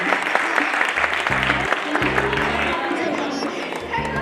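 Audience applause for performer Isha Ingle at a Diwali festival stage event, a steady wash of clapping filling the whole stretch, with a voice and amplified music layered over it.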